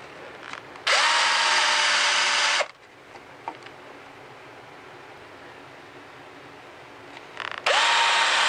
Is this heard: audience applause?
no